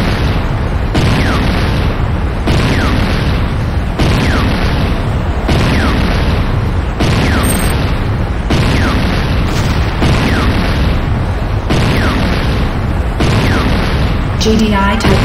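In Renegade C&C, the GDI Tiberium Refinery is blown apart in loud, heavy blasts that repeat at a steady beat about every second and a half, with a constant rumble between them.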